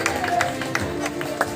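An audience at a Ramlila committee award ceremony gives a short burst of steady clapping to welcome an award recipient, loud and continuous with a faint murmur under it.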